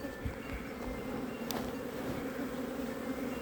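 Honeybees and larger male drones buzz steadily around a homestead hive likely to swarm, a dense, continuous hum with a few louder passes of individual bees close by.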